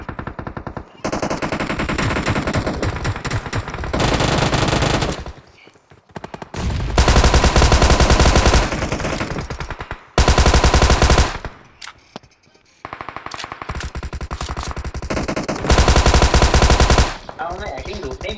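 Rapid machine gun fire in the mobile battle royale game PUBG Mobile, several long loud sustained bursts separated by brief pauses, with faint talk in places.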